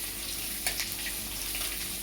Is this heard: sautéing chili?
yes